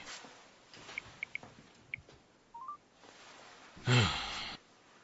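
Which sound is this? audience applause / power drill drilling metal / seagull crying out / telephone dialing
telephone dialing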